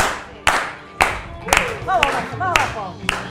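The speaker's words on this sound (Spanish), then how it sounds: "Palmas." Audience clapping hands on a TV show, several sharp separate claps in a slow rhythm, with voices and whistle-like vocal sounds between them.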